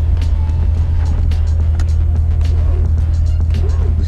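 A 2017 Corvette Grand Sport cruising around a marina on a base, with a steady, loud low engine drone and road rumble throughout and a few faint clicks and rattles on top.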